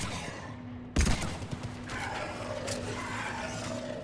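Gunfire in the video game Mass Effect 3 begins with a sharp blast and continues as a rapid, dense stream of shots over a steady game background hum.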